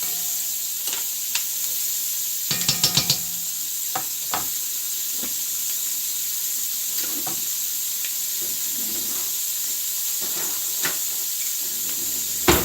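Beans sizzling in a pan with bacon, a steady frying hiss under a few light knocks and clinks of a utensil stirring, close and even throughout.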